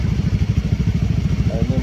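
An old motorcycle engine idles with a steady, lumpy low putter, close and fairly loud, with a brief voice at the end.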